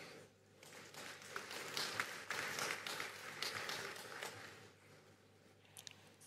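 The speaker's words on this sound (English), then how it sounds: "Another round of applause for President Evariste Ndayishimiye" Audience applause at the Africa Climate Summit 2023 following a national statement by President Evariste Ndayishimiye, a steady wash of many hands clapping in a large hall that swells midway and then thins out toward the end.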